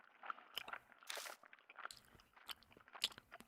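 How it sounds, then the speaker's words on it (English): Someone chews gum over a phone line in the horror game Death Mark, with quiet, irregular wet crunches and smacks close to the ear and one louder scraping burst. "I hear a noise like someone chewing gum on the other end of the phone."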